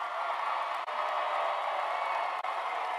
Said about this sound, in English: give your graduates a round of applause for all the work they've done